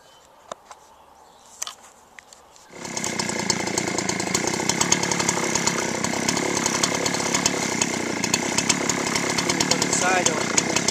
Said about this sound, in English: then I'll do a cut right down the middle, so I've got the corners relatively squared off